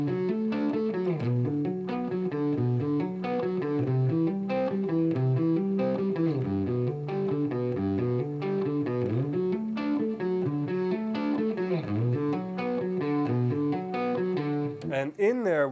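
Electric guitar with a distorted, effected tone plays arpeggio patterns at a slower, deliberate pace, clearly separated picked and hammered notes repeating in cycles, close and steady throughout.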